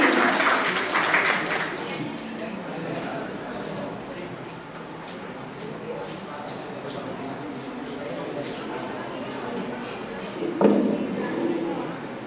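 An audience at a university closing-session program claps for a physics lecturer; steady, moderately loud applause runs throughout, with some murmuring voices underneath and a brief swell near the end.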